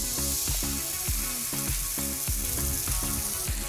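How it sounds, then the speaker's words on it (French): Soy sauce heats in a pan with a dense, even sizzle, and faint rhythmic knocks come through underneath. "Faites chauffer maintenant pendant environ 2 à 3 minutes votre sauce soja."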